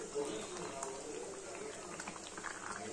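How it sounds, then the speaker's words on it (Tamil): Tomato kurma simmering in a pot on the stove, giving a soft, steady bubbling and low liquid hiss throughout, faint and close, with no clear voices over it. "இந்த குருமா எல்லாம் நல்லா கொதிச்சு கரெக்டான பதத்துக்கு வந்துருச்சு"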